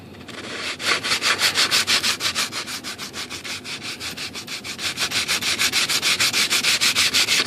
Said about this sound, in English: we'll just start with a regular sanding block